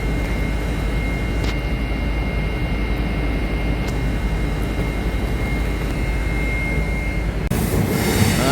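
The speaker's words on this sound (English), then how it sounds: "Good old classic HST coming in." A diesel HST high-speed train rolls into a station, a loud, continuous rumble and roar of engines and wheels close by, with brief metallic squeals and no talk.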